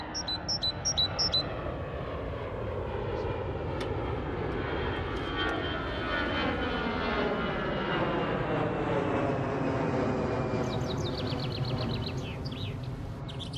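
A loud airplane engine near a runway roars steadily throughout, its pitch sweeping as the aircraft passes close by, with a few faint bird chirps at the start.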